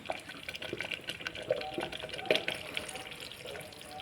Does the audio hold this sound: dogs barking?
no